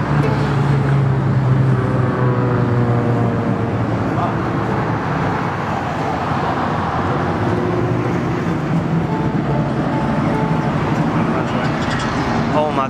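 A 1965 Pontiac GTO engine rumbles steadily amid busy cruise-week street traffic in Ocean City, a continuous loud drone with people talking over it throughout.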